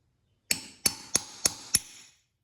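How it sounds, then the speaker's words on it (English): Five sharp, ringing metallic hammer strikes land on a chisel seating a Jeep JK driveshaft CV joint, each about a third of a second apart, close and loud, with no talk. "Just going to take my chisel here on my hammer again"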